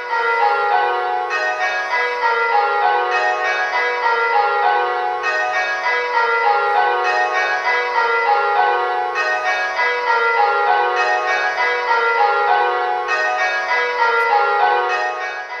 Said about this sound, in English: you should be able to tell whether it is your bell that is striking incorrectly.